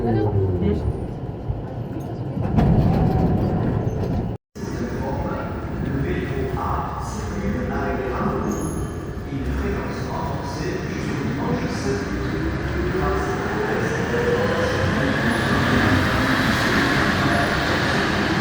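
A Siemens VAL208 NG automatic metro train on the Tisséo line in Toulouse runs steadily, its rolling rumble and wheel noise filling the whole stretch. A brief dropout comes near the start, and voices talk over it at times.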